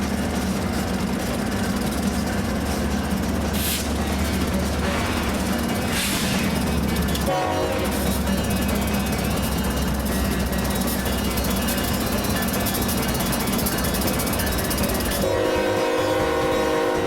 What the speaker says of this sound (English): this Phoenix to Chicago intermodal came by